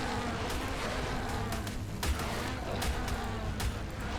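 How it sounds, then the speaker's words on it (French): Summoned bees in the video game ARK: Fjordur buzz in a steady insect drone, with sharp combat clicks and thuds punctuating it. "Elle a invoqué des abeilles."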